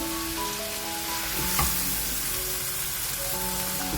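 Potatoes, peas, carrots and beans stirred together in a hot pan for vegetable biryani, a steady close sizzle with faint scraping, running continuously without speech.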